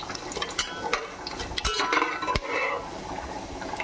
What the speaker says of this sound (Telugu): కొంచెం ఫ్రై అయితే చాలు.